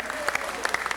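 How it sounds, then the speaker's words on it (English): Brief burst of clapping from people at a city council meeting, a scattering of individual claps heard fairly close, with a hint of voices underneath. "we should all give him a round of applause"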